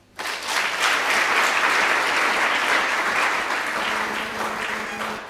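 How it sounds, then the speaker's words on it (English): A large audience breaks into loud, dense, sustained applause at a Chreso University Ndola campus official opening, swelling quickly and holding steady before easing slightly. "Let's give him a clap offering"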